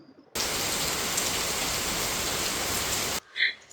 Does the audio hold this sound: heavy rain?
yes